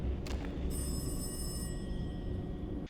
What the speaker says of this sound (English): or hear a phone ring that's just out of your reach.